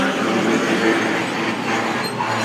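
Freight locomotive 66 721 passes the Barnby Lane level crossing in Lincolnshire with a loud, continuous rumble and rattle of wagons that holds steady close by for the whole stretch.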